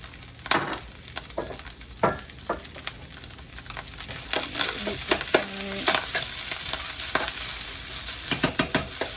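Shrimp fried rice with sesame frying in a pan, with day-old rice added, giving a continuous sizzle broken by sharp pops and the scrape of stirring, close and fairly quiet.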